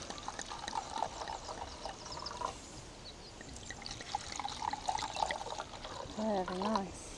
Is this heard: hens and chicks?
no